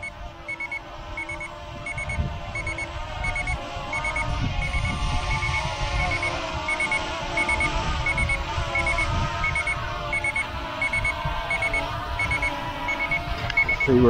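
A GPS camera drone's controller sounds its low power alarm, faint regular beeps repeating through the whole stretch over steady outdoor noise.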